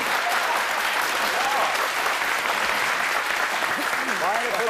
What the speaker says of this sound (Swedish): En applåd för änkefru Gustafsson.